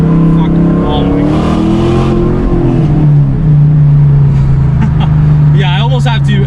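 Supercharged Dodge Challenger R/T engine with over 500 wheel horsepower, pulling hard under acceleration with a loud, steady rising drone and whine, close up from inside the cabin, with excited speech over it.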